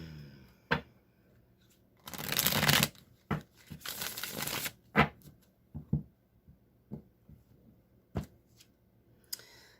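Deviant Moon tarot cards are shuffled by hand: a burst of riffling and flicking, then scattered soft taps, slides and card snaps, quiet and close with no talking.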